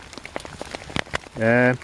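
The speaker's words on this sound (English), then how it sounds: "But it's raining pretty heavily." Heavy rain pattering on a poncho outdoors beside a small hobo stove, scattered close drops tapping, briefly followed by a short tonal sound near the end.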